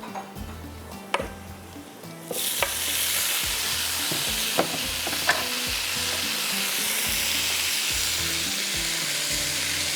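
Ginger, garlic and green chilies dropped into hot oil with onions and garam masala for Hyderabadi anda pulao, a loud steady sizzle breaking out after a few spoon clinks and stirring taps on the pot.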